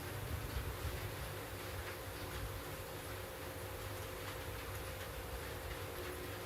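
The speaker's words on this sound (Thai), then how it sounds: "ตัวนี้เป็นรถไฟใต้ดินรถไฟใต้ดิน" Subway train rolling along the rails, a steady close rumble with faint rhythmic wheel clatter and a constant hum that holds evenly from start to finish.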